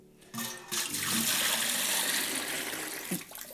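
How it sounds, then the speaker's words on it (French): Tap water runs into a bucket, starting with a short burst and then a steady, full rushing pour that fills the space at moderate volume, with a faint knock near the end. "Je vais mettre un petit peu d'eau dans un seau."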